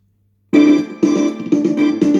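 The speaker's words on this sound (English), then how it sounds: "And here are some of the songs on this keyboard." After a brief silence, a Yamaha PSR-F51 electronic keyboard plays a bright synthesized built-in demo song, with notes and chords striking in a steady rhythm.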